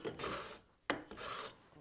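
Japanese kanna hand plane taking a fine cut on wood, unclamped: two long rasping strokes bracketing a short sharp scrape, close and fairly loud with no talk.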